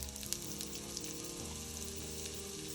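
Chopped onion sizzles in hot oil in a pan on the stove, cooking for a salt mackerel rundown; a steady, close, even frying hiss with a few small pops, no voices.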